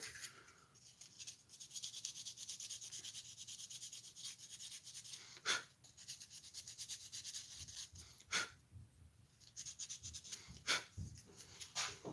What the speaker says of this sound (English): And then you can sand it down real quick.